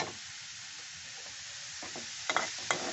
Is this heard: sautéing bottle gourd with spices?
yes